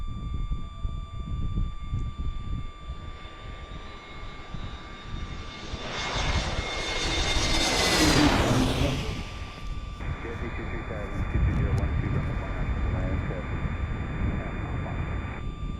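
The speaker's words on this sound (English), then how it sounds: "Are you hearing the aircraft sounds?" Fixed-wing aircraft passing at DCA airport in Washington, a loud engine roar that swells to a peak near the middle and then fades, steady broadband rumble throughout with faint speech underneath.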